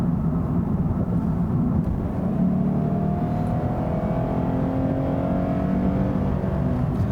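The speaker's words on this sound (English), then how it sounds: "when you have your foot deep into the throttle, it produces amplified induction noise" A 2017 Lexus IS 300 F Sport sedan's 3.5-liter V6 revs hard under deep throttle, its sound generator piping amplified induction noise into the cabin as a loud, steady drone with rising tones and no talking.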